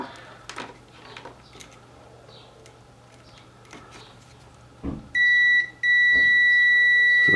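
Multimeter continuity beep while testing a figure-8 (C7) power cord: two sustained electronic tones near the end, each loud and steady after a quiet lead-in with faint clicks.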